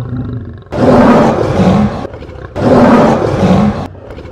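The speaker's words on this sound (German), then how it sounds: "Nummer 21. Löwe." A lion behind zoo glass gives two long, deep roars in a row, each lasting over a second with a brief pause between, very loud and close.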